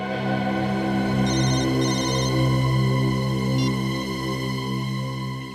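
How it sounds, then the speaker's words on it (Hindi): A telephone rings for a private-number call in a police crime drama, a loud, sustained electronic ringtone tune that carries on without a break, with no speech over it. "फोन उठाओ।"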